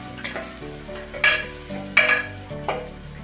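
Chopped onion frying for ghee rice, stirred with a spatula: a soft sizzle under three or four sharp metallic scrapes and clanks against the pan, evenly spaced, with no speech.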